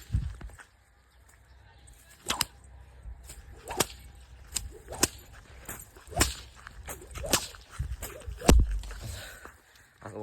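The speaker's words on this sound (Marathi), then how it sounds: "सकाळ सकाळी चाबूक घेऊन आलो या पाखर राखायला. लागलं लई जोरात चाबूक." A whip is cracked over and over in the early morning to scare birds off the crop: a string of sharp, loud snaps at uneven intervals, with faint rustling and footsteps between them and no speech.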